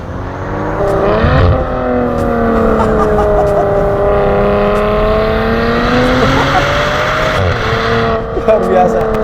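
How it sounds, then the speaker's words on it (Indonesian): A 2019 Maserati Ghibli S GranSport sedan's exhaust revs loudly and nearby, rising and falling in two long sweeps with a brief blip near the end, no talk over it. "di bagian luar suara knalpotnya benar-benar menggugah adrenalin"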